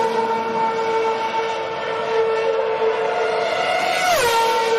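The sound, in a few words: Formula One race cars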